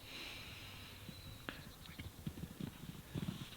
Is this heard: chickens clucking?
no